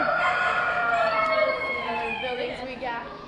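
Chickens and roosters in a county fair poultry barn crow and cluck in overlapping, fairly loud calls, with a crowd's voices murmuring underneath.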